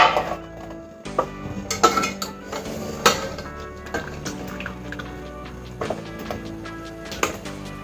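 Cooked broad beans are moved into a metal strainer with clattering utensil knocks and scrapes, some wet sounds, and a rattle of cookware at a steady, busy pace nearby.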